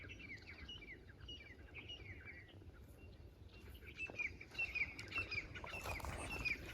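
Birds chirp softly in a quiet village morning, with scattered thin calls and a brief flutter of wings over a low, steady outdoor hum.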